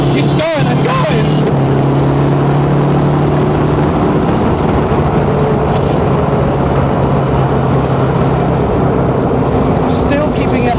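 Caterham 420R sports car engine running steadily during a drive, held below 5,000 rpm while running in, with a sequential gearbox; a continuous loud drone with tonal bands shifting in pitch, and a voice talking over it.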